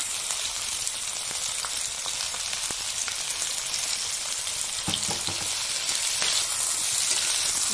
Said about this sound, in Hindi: इसमें इसको डाल के भून लेते हैं